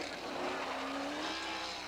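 A sprint car with a new Nance chassis screams through a qualifying lap at Eastbay Speedway in 1985, its engine pitch climbing in one brief, faint, distant pass.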